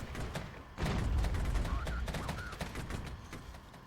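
Heavy battlefield gunfire in the military strategy game Regiments, a dense stream of rattling shots and booming impacts, loud and continuous with a thick low rumble beneath.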